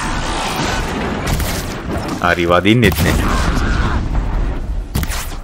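Heavy bomb blasts go off in the Horizon Zero Dawn video game, with several loud booming bursts spread across the moment while a player talks over the action.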